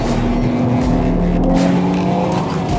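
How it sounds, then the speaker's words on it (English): A new BMW M3 Sedan powers out of a corner with slight oversteer, its engine roaring loud and continuous with rising revs and a hint of tyre noise, heard from close up. "Now we're driving out of the corner with slight oversteer."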